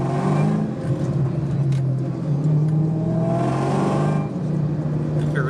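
An overheating car engine revs up and down repeatedly, a steady droning roar rising in pitch then easing, heard close with no talking.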